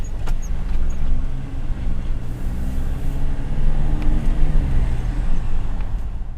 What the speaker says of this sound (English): Acceleration off the line, a little bit of turbo lag, but when it gets going, it's all there.